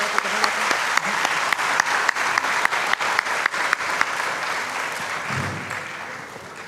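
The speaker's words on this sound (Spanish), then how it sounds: "lo recibimos con un fuerte aplauso." An audience at a talk on a constituent assembly greets a speaker with loud, sustained applause, individual claps crisp at the start and the sound gradually thinning toward the end, with a brief low thump near the close.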